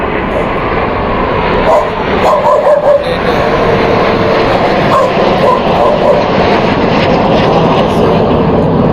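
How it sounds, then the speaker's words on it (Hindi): Airplane passing low over a rooftop, a loud broad engine roar filling the whole stretch while someone talks over it and a dog yips faintly nearby. "बहुत नॉइस रही है, फ्लाइट गुजर रहा था या हमारे छत से।"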